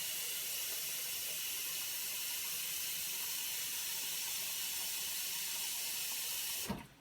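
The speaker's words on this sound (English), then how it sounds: "you want to pour water, enough water, just straight from the faucet, to cover it by about 1 inch." Tap water runs steadily from a kitchen faucet into a pot holding an egg, a continuous bright hissing pour that stays even for several seconds and then cuts off abruptly near the end.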